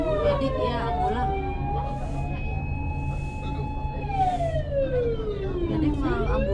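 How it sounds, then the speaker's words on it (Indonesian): Ambulance siren on a street in Japan, a loud wailing tone sweeping slowly up and down with traffic rumble underneath and voices nearby. "Ambulan."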